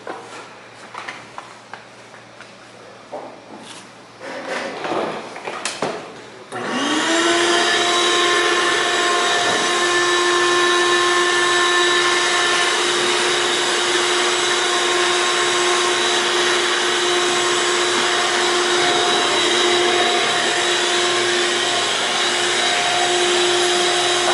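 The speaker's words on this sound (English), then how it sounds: "Oh, it's a vacuum cleaner." A vacuum cleaner in a high-voltage lab spins up after some clattering and handling, then holds a steady, loud whine that runs on alone at close range.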